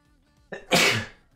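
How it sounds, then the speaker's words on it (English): A single sharp sneeze: a short inhaled catch followed by a loud, explosive burst that trails off quickly. "why can I never sneeze just once?"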